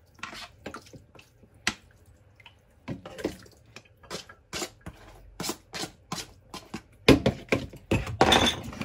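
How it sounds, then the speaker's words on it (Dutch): Irregular wet drips and splats, close up, with small squishy sounds as water drains out of a thick cornstarch mixture. "I'm just getting the water out of the mixture so that I can use it."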